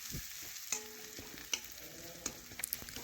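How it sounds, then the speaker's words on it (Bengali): Onion frying in a pan until reddened gives a soft, steady sizzle with a few small pops and stirring clicks, close but quiet and with no talk. "এখন পেঁয়াজটা লাল লাল ভাজা পর্যন্ত বেশ কিছুক্ষণ আমি অপেক্ষা করে নিচ্ছি।"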